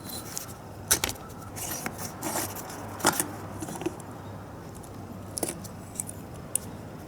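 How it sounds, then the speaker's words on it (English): Small metallic clicks and scrapes from fuel line caps being unscrewed on a Mikuni carburetor from a Yamaha Banshee, several sharp ticks scattered over a low steady hum in a quiet workshop, with no talking. "So now I can take the fuel lines out, and that can be done by unscrewing these caps."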